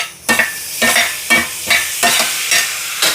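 Carrots frying in a pan for crab kottu roti are stirred in about six rhythmic scraping strokes over a continuous close sizzle, loud and with no talk.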